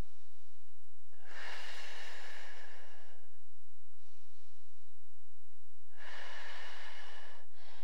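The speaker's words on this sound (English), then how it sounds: "breathing for those 3 deep breaths" Deep, slow yoga breathing close to the microphone: a long airy inhale-exhale, a softer shorter breath, then another full breath, each a hushed rush of air over a quiet hum.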